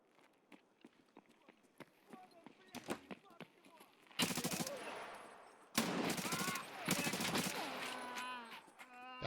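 Gunfire in the video game Escape from Tarkov, a PVE challenge: scattered single shots early, then dense loud bursts of automatic fire with heavy echoing reports, a brief pause, and more sustained firing to the end.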